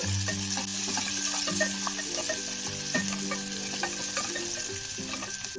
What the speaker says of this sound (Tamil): இங்க பாருங்க ஃப்ரெண்ட்ஸ், வெங்காயம் வந்து கொஞ்சம் நல்லா வதங்கட்டும்.